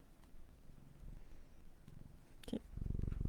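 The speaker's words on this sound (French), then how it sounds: "il ronronne" A cat purring close by, a faint, steady low rumble that swells into a louder purr near the end, with a brief rustle partway through.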